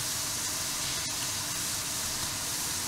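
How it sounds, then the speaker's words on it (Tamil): Diamond biscuit dough frying in a pan of oil gives a continuous, even hissing bubble, a soft wash of sizzle with no talk and barely any change throughout. "பொரிஞ்சு வருதுல்ல, நம்ம ஃப்ளேம் பார்த்துக்கணும்."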